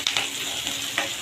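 Curry leaves crackle and sizzle in hot oil for a dal fry tempering, a steady close hiss with a few sharper pops and spoon scrapes in a short burst.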